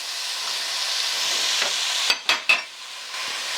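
Carrots and celery cooking in a stew pot give a steady close sizzle, broken near the end by a few sharp scraping stirs.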